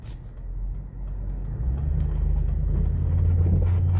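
A car on a morning drive along local roads, a steady low engine and road rumble from inside the cabin that builds slightly in loudness, continuous and close, no voices.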